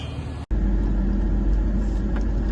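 A truck engine rumbles steadily and close by, with a heavy low drone that holds throughout apart from a momentary cut near the start, and no talking over it.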